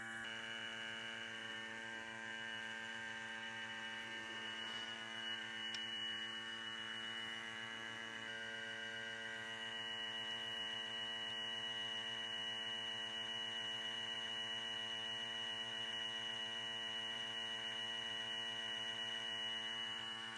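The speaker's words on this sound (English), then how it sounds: "now that our vacuum pump is running" A vacuum pump runs on the air-conditioning system of a Hitachi EX100-5 excavator, giving a steady, even mechanical hum with a strong tonal drone that stays constant throughout, with no voices.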